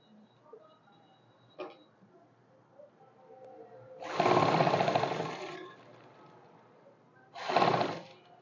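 Sewing machine stitching a deep seam at the waist of a kurti, running in two short bursts of rapid needle clatter separated by a quiet pause, with a faint click earlier.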